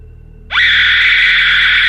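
A woman screams in fear: after a quiet, humming start, one sudden, piercing scream rises sharply and holds at full volume, loud and close, to the end.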